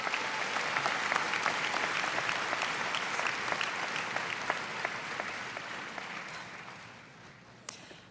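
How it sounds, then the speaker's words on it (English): A large high school graduation audience applauds in honor of families, a dense roll of clapping with a few sharp individual claps, holding steady before tapering off near the end. "Could we please have some applause for our families?"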